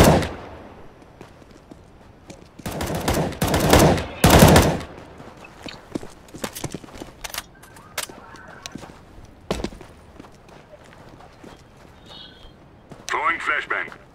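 Bursts of automatic rifle fire and scattered single shots crackle through a competitive CS:GO match, loud volleys early on and sporadic shots later, with a player talking over them.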